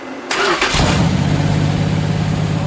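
A Mopar 400 big-block stroked to 500 cubic inches cranks and fires on its first start-up, catching abruptly and settling into a loud, rough, steady rumble close by.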